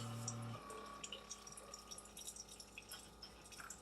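Hot water runs from a machine into a cup, a faint steady trickle with small drips and splashes after a short low mechanical hum at the start.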